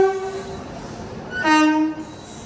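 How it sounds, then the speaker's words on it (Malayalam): The Pallavan Express, hauled by a WAP-7 electric locomotive, pulls into platform three at a busy Chennai station. Its horn sounds two tonal blasts, a shorter one and then a louder, longer one, over steady rail and station noise. "ചെന്നൈ മോറിലേക്ക് വരുന്ന പല്ലവൻ എക്സ്പ്രസ് ഇതാ പ്ലാറ്റ്ഫോം നമ്പർ മൂന്നിലേക്ക് വരുവാണ്"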